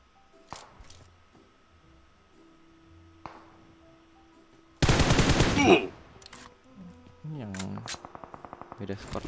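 Video game gunfire from an online shooter: a dense, loud burst of automatic fire in the middle, then a rapid run of evenly spaced shots near the end, with quieter game sounds and faint clicks between.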